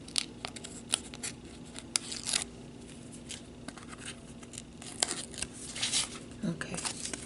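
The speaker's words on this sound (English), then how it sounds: "I'm just going to peel these off" Adhesive backing pieces peeled off a craft money treat holder for a candy bar, close, quiet tearing and crinkling sounds in short bursts over a faint background hum.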